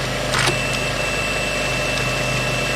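An old teleprinter idles with a steady mechanical hum and faint whir, with a few soft clicks near the start.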